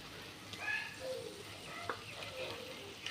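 Chicken meat goes into a pan of spice paste for a homestyle Bengali curry, a close sizzle and frying crackle with faint stirring scrapes and small clatters over a steady hiss.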